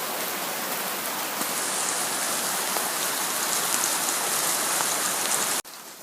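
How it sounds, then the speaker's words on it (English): Heavy rain pouring down steadily outside a workshop, a dense continuous hiss of rain on surfaces, close and uniform, cutting off abruptly near the end. "By heck, that was some rain."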